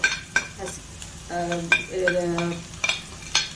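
Squid stuffing fries in a pan, a soft sizzle under sharp intermittent clinks and scrapes of a utensil against the pan, with a brief tonal squeak in the middle, close and without talk.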